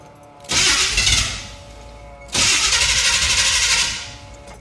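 A 1977 Chevrolet Monte Carlo engine cranks and fires twice in a row, each start a loud, close burst of broadband roar that settles briefly toward a lower idle between attempts, with no talking.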